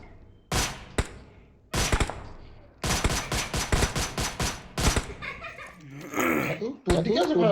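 Rapid bursts of video game gunfire crack out in loud clusters, with sustained automatic fire through the middle and scattered single shots around it, mixed with other game effects toward the end.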